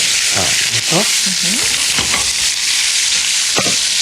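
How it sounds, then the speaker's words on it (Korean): Chicken and garlic sizzle loudly in a hot pan, with steady hissing and the scrape of a utensil stirring several times. "그리고 닭을 볶는 거죠"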